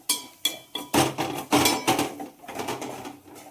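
A metal spoon scrapes and knocks repeatedly against a pot while masala is mixed and fried for veg biryani, a close, rhythmic series of clanks and scrapes with no talking.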